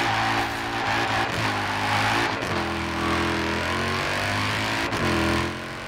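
A Mercedes engine in Forza Horizon 4 holds high revs at a launch control start, a loud, steady droning roar with brief dips and surges before easing off at the end.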